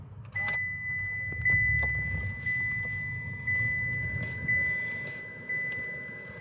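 A 2023 Cadillac XT5 Sport started by push button settles into a low, steady idle rumble beneath a thin, continuous high chime, with soft cabin knocks and no talking.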